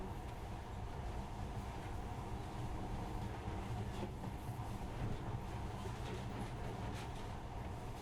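A monorail train in the video game Metro Last Light Redux rumbles along steadily with a continuous low droning roll and faint rail clatter, at moderate volume and without talk.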